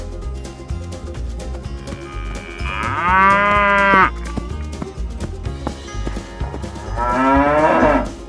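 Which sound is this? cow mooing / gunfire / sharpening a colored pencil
cow mooing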